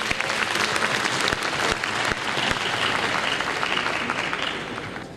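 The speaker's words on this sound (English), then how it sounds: "applause, Mr. Mohsen Lodik." A large audience at a talk applauds to welcome a speaker to the stage, a dense, steady wash of clapping that holds for the whole stretch with a few sharper claps standing out near the start and slowly thins toward the end.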